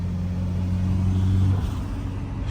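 A turbocharged Nissan 180SX Type X widebody engine drones loudly and close, rising in pitch as it comes into boost, then drops off sharply near the end.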